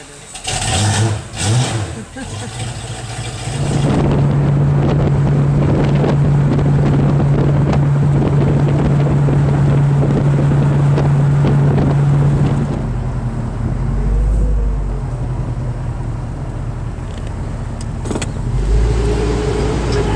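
Sierra Silver Mine Tour trolley running with a steady engine drone and a sustained hum, wind buffeting the microphone, as people talk in the background and occasional bumps and rattles are heard.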